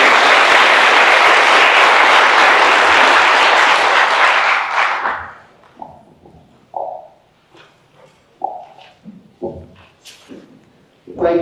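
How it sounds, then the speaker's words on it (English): Breakfast-meeting audience at an economic development panel bursts into loud, close clapping for about five seconds, then it cuts off abruptly into a quiet room with scattered short knocks and shuffles. "will you all join me in applauding these 3 folks"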